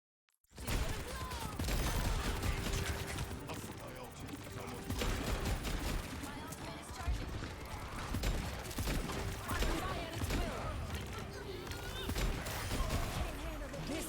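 Rapid volleys of Ashe's fanned-hammer gunfire from the Overwatch video game on the Junkertown map, dense overlapping shots with clanking mechanisms and other game effects, loud and continuous throughout, with a voice talking over parts of it.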